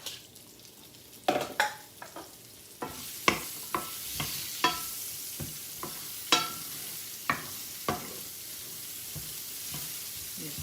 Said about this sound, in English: I sliced up a whole green pepper and about a quarter of an onion. And I'm going to saute those.